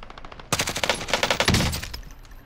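Rapid automatic gunfire in Call of Duty Warzone, a loud burst of close shots in quick succession that fades into echoing reports.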